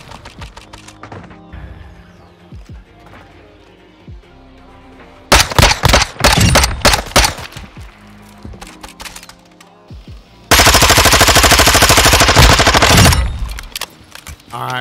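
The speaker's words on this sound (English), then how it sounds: "I missed quite a few shots, but 41 meters for a submachine gun" Vaznev-9K submachine gun fire in Modern Warfare II, two loud sustained automatic bursts after a stretch of quieter game ambience, the second burst longer and denser.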